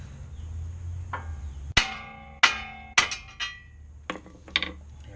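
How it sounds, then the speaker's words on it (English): Hard metallic hammer strikes on a lower ball joint of a 2005 Honda Odyssey during CV axle work, several loud ringing blows in irregular succession followed by lighter clinks, close up with no talking. "you can put both hands on the hammer and you can really get on that spot"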